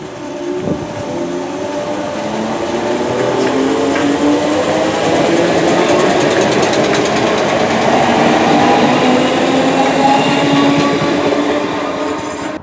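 A Merseyrail Class 508 electric train rolls through a station with a loud, sustained rumble and rising whine, wheels clicking over rail joints, building after a brief quiet start and holding steady before easing at the end.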